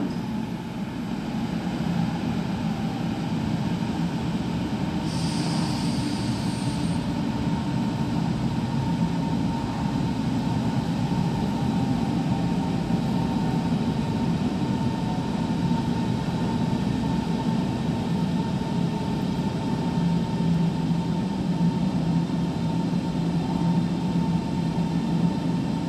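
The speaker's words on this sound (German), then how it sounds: "Eingefahrener Zug auf Gleis 5." S-Bahn train pulling into the platform at Berlin BER airport station, a steady low rumble and hum of the arriving train filling the underground station throughout, with a brief higher squeal partway in.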